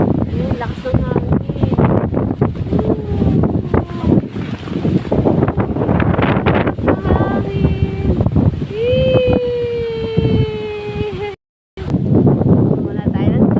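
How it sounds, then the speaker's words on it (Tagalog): Strong wind blows at Caleruega in Batangas, buffeting the microphone in uneven gusts while people talk throughout. "Ayun, lakas ng hangin."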